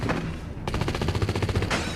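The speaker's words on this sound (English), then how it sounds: "squeezes the trigger, and drops the man instantly" Rifle gunfire rattles off in a rapid burst of sharp, close reports after a brief pause, the shots coming in quick succession like a volley.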